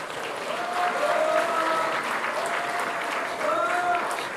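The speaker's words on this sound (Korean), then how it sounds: "자, 큰 박수 부탁드립니다." An audience at a Gunpo mayoral candidate debate applauds steadily throughout, a dense, even patter of many hands in a hall, with faint voices beneath.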